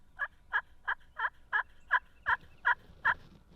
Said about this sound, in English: Turkeys gobbling everywhere.